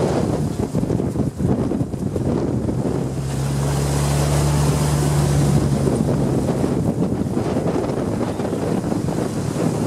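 A sailboat's engine runs at full throttle on the Venice lagoon, a steady drone beneath loud wind buffeting and rushing water, with no talking.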